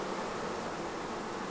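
Dense, steady buzzing of honey bees swarming close around a hive, a loud continuous insect drone with no pauses and no voices.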